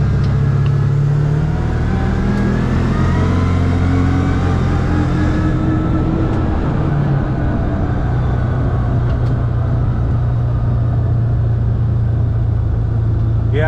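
A utility side-by-side rolls along with its engine running smoothly, a close, steady low hum with a gently shifting drone and no talking.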